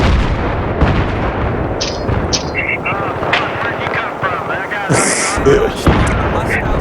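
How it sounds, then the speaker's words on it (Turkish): Repeated mortar and gunfire blasts from a multiplayer shooter video game ring out in quick succession, with explosions and a helicopter-like drone underneath, while players talk over the action throughout. "Başka biri daha sıkıyor mortar çok"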